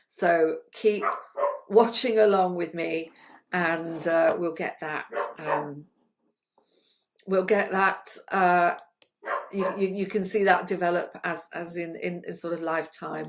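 A dog barks in the background, its short barks partly buried under a continuous stretch of close, steady talking.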